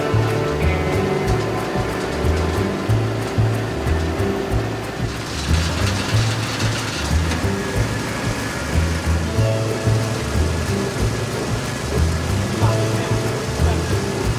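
Drinking-water pipe being cleaned inside by a rotating mechanical head with hydraulic rinsing, producing a loud, steady rushing and churning roar with rhythmic low pulsing throughout.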